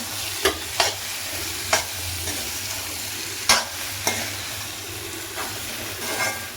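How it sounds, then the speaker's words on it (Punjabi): Boiled potatoes are stirred into a spiced tempering in a pan, with a steady sizzle of frying throughout and sharp scrapes and clinks of the spoon against the pan at irregular intervals. "ਹੁਣ ਇਹਦੇ ਵਿੱਚ ਐਡ ਕਰਾਂਗੇ ਅਸੀਂ ਬੋਇਲਡ ਕੀਤੇ ਹੋਏ ਆਲੂ ਇਹਨਾਂ ਨੂੰ ਅਸੀਂ ਚੰਗੀ ਤਰ੍ਹਾਂ ਕਰਾਂਗੇ ਮਿਕਸ"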